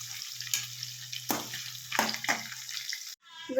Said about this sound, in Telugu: ఇంకా ఫ్రై చేసుకునేటప్పుడు మధ్యలో ఇట్లా కలుపుతూ ఉండాలి